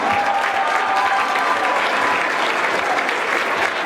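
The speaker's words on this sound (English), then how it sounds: "So a big round of applause for all of the alumni." Sustained, loud applause from a large audience honoring school alumni at a retirement celebration, dense steady clapping with no pauses.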